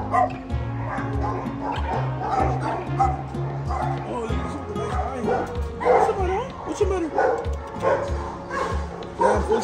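Several Chihuahua-type dogs bark, yip and whimper close by in rapid overlapping bursts, with a person talking over them.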